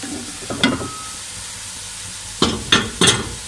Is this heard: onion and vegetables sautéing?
yes